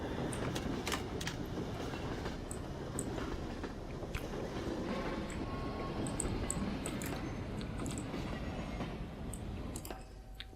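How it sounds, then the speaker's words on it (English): A train ride in the video game Half-Life: Precursor, with steady rolling rumble and clickety-clack of rail wheels, faint squeals and clanks on top, continuous and fairly close with no talk. "that train journey partially served as a change in location"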